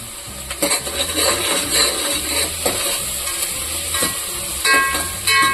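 Fenugreek and fennel seeds sizzle steadily in a hot pan, a close, continuous frying hiss with occasional stirring scrapes and soft pops.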